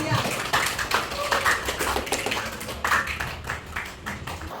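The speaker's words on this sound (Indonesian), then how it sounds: "Kasih tepuk tangan buat Ayah." A classroom claps for Ayah, scattered uneven hand claps from a small group, moderately loud and irregular, mixed with some voices.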